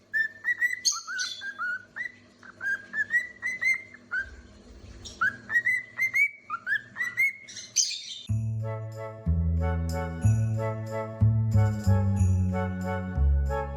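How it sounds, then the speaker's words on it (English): Bird song delivered as a lively run of bright, rapid whistled chirps and trills, close and clear, then joined by background music in the second half. "This bird is putting on a show."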